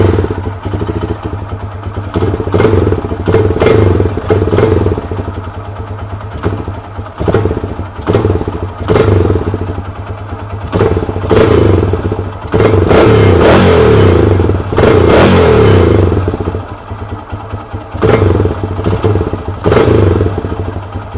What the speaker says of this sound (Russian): Видите, как-то нестабильно работает на полностью открытом.